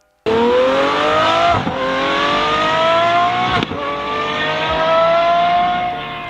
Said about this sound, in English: the engine is a 4-liter naturally aspirated V12